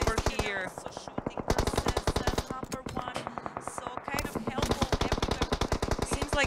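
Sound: gunfire in PUBG Mobile video game

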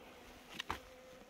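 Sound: swarm of Korean native honeybees in a hive

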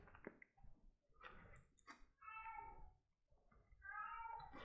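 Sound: cat meowing behind a closed door

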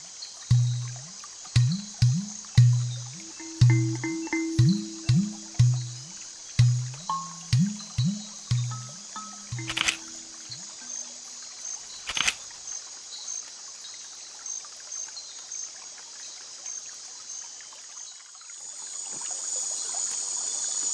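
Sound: rainforest stream flowing at night, Costa Rica

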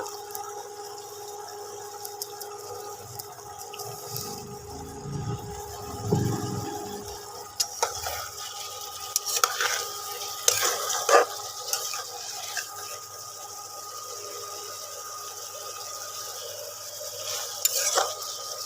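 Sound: stirring rui fish and cauliflower curry in a pan

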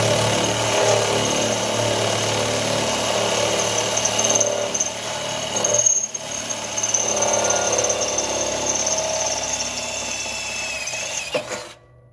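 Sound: power drill drilling through steel plate

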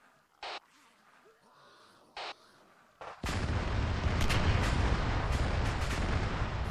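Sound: explosion in a video game

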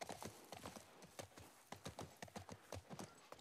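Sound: horse in the video game The Last of Us Part I

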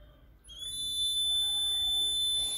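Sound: water poured into glass triggering overflow alarm

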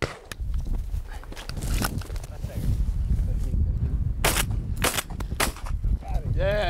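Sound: gunshots while hunting

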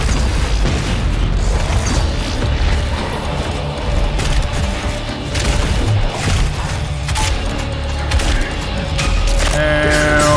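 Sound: explosion in the video game Doom Eternal

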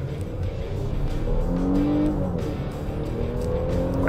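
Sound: Nissan Pathfinder accelerating at full throttle in Sport mode

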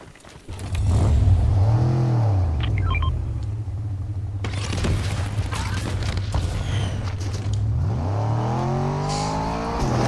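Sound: car driving in the video game Fortnite

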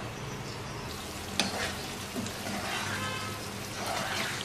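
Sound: paneer handi cooking and sizzling in a pan

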